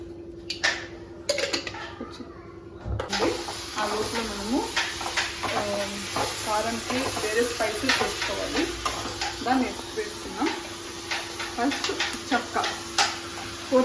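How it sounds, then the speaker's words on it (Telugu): Ginger and spices frying in oil in a home kitchen, a close, continuous sizzle with repeated stirring scrapes throughout, heard under intermittent talking. "అల్లం ఇవన్నీ వేసి ఆయిల్ వేసి మనము కొంచెం ఫ్రై చేసుకోవాలి"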